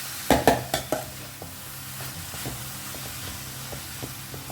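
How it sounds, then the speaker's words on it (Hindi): Vegetables for paneer momos being stirred in a pan over a high flame, with several sharp scraping clacks at the start and then a steady sizzle and soft intermittent stirring scrapes, close and moderately loud. "फ्लेम को हाई रखिए और इसे अच्छे से मिक्स करें।"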